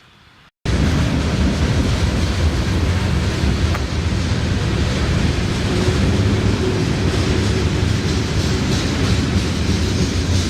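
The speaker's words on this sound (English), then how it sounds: "There's a bumblebee and a train." A train passes nearby with a loud steady rumble and rush that starts abruptly after a moment of quiet and continues unbroken to the end.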